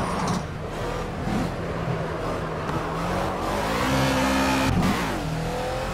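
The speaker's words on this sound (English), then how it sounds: "gunning it around the corner at 150 can also be fun." A race car in the Project Cars video game accelerates hard through a corner at high speed, its engine loud and continuous, revving up with a rising whine and shifting gears near the end, with no talk.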